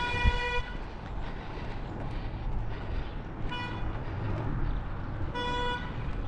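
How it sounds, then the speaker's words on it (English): A minibus taxi on a Johannesburg street in Kempton Park sounds its horn in three short, loud hoots spaced a few seconds apart over steady traffic rumble. "Every taxi, every route has got a different length horn and hand signal."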